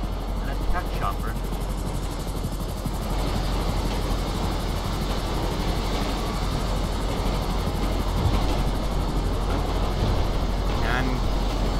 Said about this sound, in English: An attack chopper.